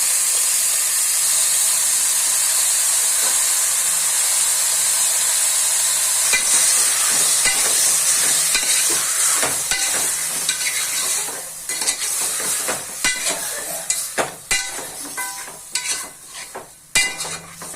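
Washed mutton fries with tomato in a pan for mutton curry, a loud steady sizzle that gives way to repeated scraping and stirring clatter, growing choppier and more intermittent toward the end.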